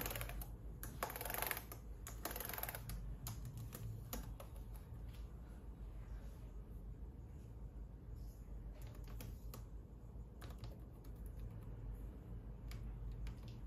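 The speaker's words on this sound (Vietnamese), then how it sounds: "Em test bàn phím cho mình ạ" Keys are tapped one after another across a Lenovo C630 laptop keyboard in a test, producing soft, scattered clicks at an uneven pace over a steady low background hum.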